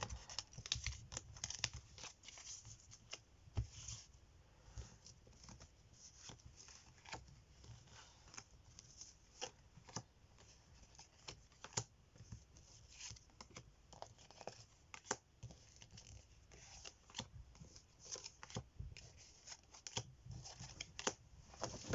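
Tarot cards are shuffled by hand for a reading, giving a quiet, close, steady stream of papery riffles, slaps and soft clicks for about twenty seconds, with no voices.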